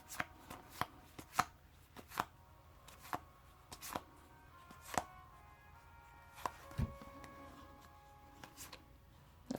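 Tarot cards being shuffled by hand in a series of sharp, separate riffles and taps at a steady uneven rhythm, close and fairly quiet, with no voices.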